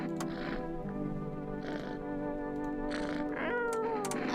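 Several distinct meows from a cat in the horror video game No, I'm Not a Human, fairly close and clear, repeated over a few seconds above a low steady background hum, with no talking.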